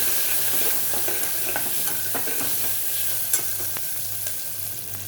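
Onion and asafoetida sautéing in a pan for Maharashtrian dal give a steady, close sizzle, with soft clicks and scrapes of stirring throughout and no talking.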